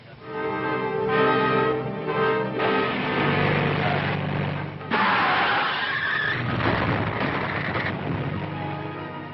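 A car skidding to a stop in a 1942 crime horror film, loud tire screech with engine noise building and cutting off, heard alone without talk.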